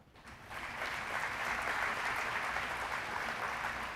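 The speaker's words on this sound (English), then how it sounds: "If you would just give them one more round of applause, they worked hard." Applause at an elementary school awards ceremony for grades one to three, a steady patter of many hands clapping in a room that swells quickly and holds evenly, fairly faint and without talk.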